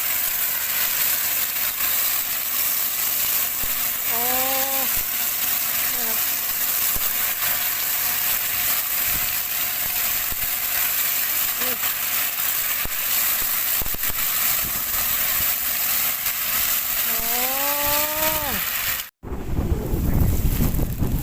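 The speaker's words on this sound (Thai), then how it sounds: "เป็นเครื่องตีใบที่แบบเหมือนอุโมงค์นะครับ" A tunnel-type sugarcane leaf-stripping machine runs outdoors with a steady broad mechanical roar and wind buffeting, a few brief rising whines sounding over it before a sudden cut to louder rumbling at the end.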